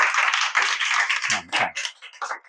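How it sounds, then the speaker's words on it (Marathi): A group of students clapping together, with a brief burst of fairly close applause of quick, dense hand claps overlapping slightly. "टाळ्या वाजवा."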